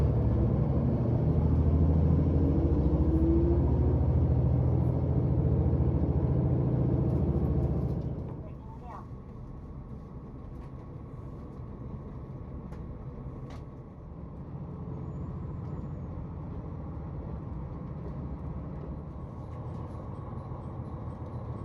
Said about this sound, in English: The train we're riding to Otoineppu with is the Sarubetsu Limited Express train, travelling between Asahikawa and Wakkanai.